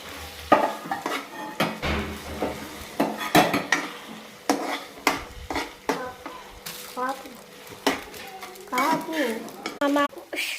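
Yippee noodles being mixed with masala in a pan, with loud, close, irregular clatters and scrapes of a utensil against the pan over a faint sizzle, and brief voices in the background.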